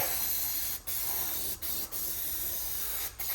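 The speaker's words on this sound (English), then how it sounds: "I'm gonna go grab a can of brake cleaner now just to clean up the area a little bit better" A can of brake cleaner releases a continuous loud hiss of aerosol onto a Nissan Murano's oil cooler area, briefly interrupted by a few short pauses between bursts.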